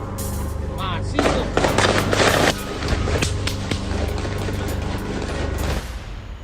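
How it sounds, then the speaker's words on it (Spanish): Rapid sharp gunshots ring out in bursts, close and loud, cracking over a steady background hum with a few irregular isolated reports trailing off. "Esos son balazos, raza"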